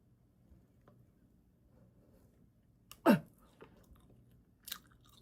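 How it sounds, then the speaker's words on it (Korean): A chewy marshmallow cookie with strawberry and fig is bitten once loudly up close, followed by a few faint soft chewing and mouth sounds in an otherwise quiet room. "쫀득 쿠키 처음 먹어봄 이거부터 한번 먹어볼게요"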